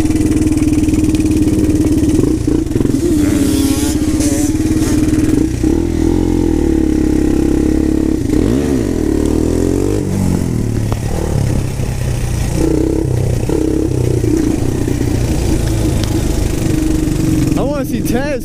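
Four-wheeler ATV engine running steadily while riding on dirt in the rain, a continuous mid-pitched drone close to the rider, with a voice talking over it.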